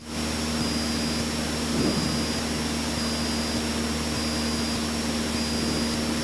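Light training aircraft engine heard from the cockpit as power is increased in flight, a loud continuous drone with a steady high whine and a brief swell partway through, no talk.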